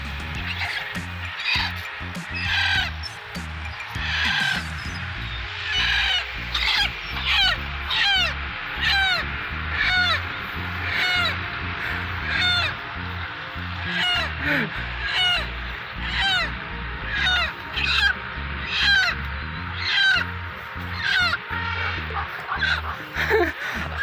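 Domestic chickens cluck and squawk in repeated sharp bursts, close and fairly loud against a low rumbling background for most of the stretch, with a voice talking at times.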